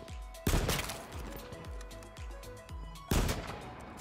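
Gunfire in the battle royale game H1Z1 on PS4: two loud, sharp shots land about two and a half seconds apart, with a run of quieter, rapid thumping impacts between them.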